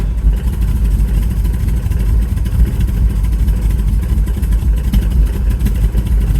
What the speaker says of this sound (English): it takes a little bit of feather in the gas before it starts idling nice